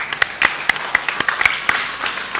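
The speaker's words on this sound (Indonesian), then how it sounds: "Berikan tepukan gemuruh." A school assembly audience claps at a closing ceremony, a steady patter of many hands with sharper individual claps standing out, fairly close and filling the whole moment.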